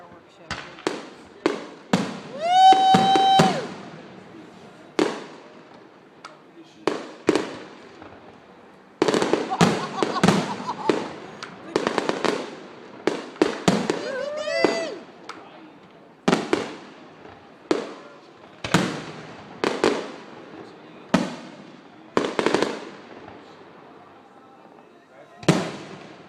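A fireworks show in Goleta, California, with repeated booming bursts and crackles, some whistling rockets rising before they explode, spaced irregularly over the whole stretch with people talking nearby.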